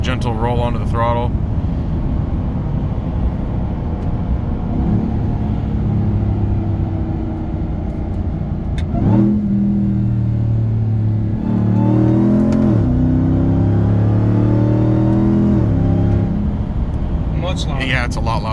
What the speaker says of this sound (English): That was just a gentle roll onto the throttle.